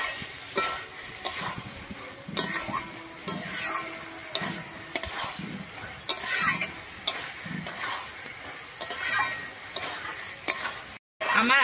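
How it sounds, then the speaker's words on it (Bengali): Fried potatoes and banana flower being stirred in a pan, with a steady sizzle of frying under repeated scraping strokes of a utensil across the pan, close and fairly loud throughout. "ভেজে রাখা আলুটা দিয়ে কিন্তু আমি ভালোভাবে মিশিয়ে নেব।"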